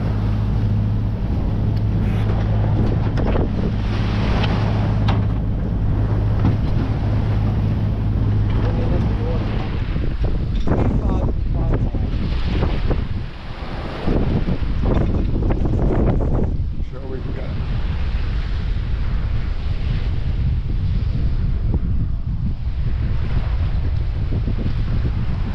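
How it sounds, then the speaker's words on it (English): Strong wind, about 20 knots on the beam, roars across a sailboat at sea on the way to Ireland, with water rushing along the hull; the blustery noise stays loud and steady throughout, dipping briefly midway. "And we've got 20 knots of winds on our beam"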